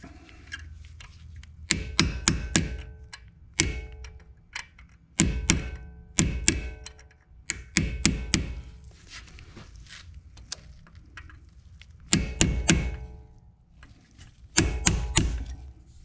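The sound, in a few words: hammer and punch knocking out caliper pins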